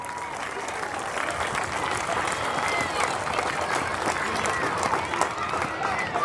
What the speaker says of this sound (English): let's give another round of applause for our home run hitters